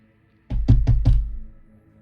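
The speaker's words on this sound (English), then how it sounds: "A knock at the door broke the silence." Four quick, solid knocks land on a door up close, a short rhythmic burst in otherwise quiet surroundings.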